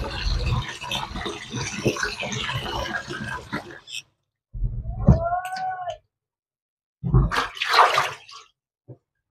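Raw meat is rinsed under running water in a home kitchen, a gushing splashing stream that stops abruptly, followed by a cat's short, clear meows in the quiet gaps.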